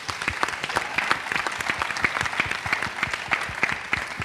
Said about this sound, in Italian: per cui vi chiedo un applauso